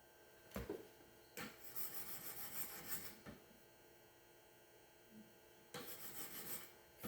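A knife blade being sharpened on an 800 grit stone in a Wicked Edge guided sharpener, three bursts of close, dry rasping strokes separated by quiet gaps.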